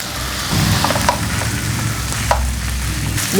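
Shrimp and rice stir-fried with garlic and chili in a hot pan for Thai basil fried rice, giving a steady loud sizzle with scraping and tossing of the pan throughout, no talking.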